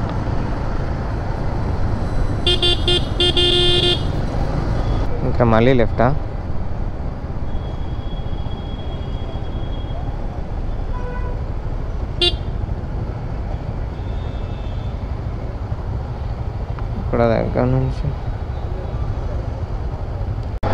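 Heavy Bangalore city traffic heard from a Yamaha MT-15 motorcycle, with a constant engine and road rumble, several honks and horn bursts from nearby vehicles, and a rider talking over the din.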